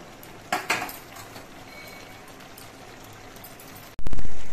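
A spoon clinks against a pan a few times while mustard paste and old grated coconut are stirred together, followed by a quiet stretch and a sudden loud thump near the end.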